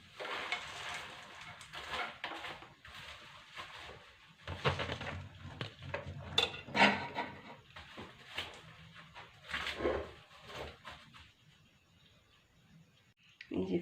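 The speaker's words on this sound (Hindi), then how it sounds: "अब हम इसके अंदर पॉपकॉर्न डाल देंगे। जल्दी से मिक्स करते जाएंगे।" Popcorn is stirred into caramel in a pan, with scattered clicks, scrapes and sticky rustles of a spoon working through the kernels at close range, irregular and fairly quiet.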